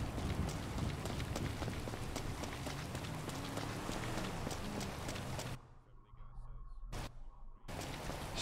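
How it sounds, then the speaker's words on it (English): Dense rainfall patter in GTA 5 runs continuously, then cuts out briefly near the end before resuming, with faint footsteps-like thuds mixed in. "it's starting to rain, that's going to make things even more difficult"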